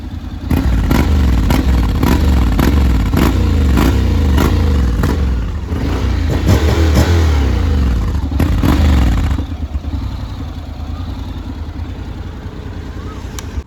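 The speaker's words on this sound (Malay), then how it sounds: "korang dengar bunyi 270 degree crankshaft" A Honda X-ADV 750 scooter engine with a 270-degree crankshaft revs up and down repeatedly at close range with a lumpy, uneven beat, then settles into a rough idle.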